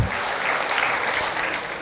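A church congregation applauds loudly, a dense continuous wash of clapping from a large crowd with no talk over it.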